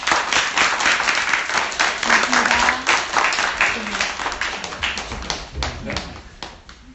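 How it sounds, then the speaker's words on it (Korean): Audience claps in a steady burst of applause at an indoor gathering, the crisp hand-claps dense and close, continuing evenly for several seconds before tapering slightly. "약속의 박수"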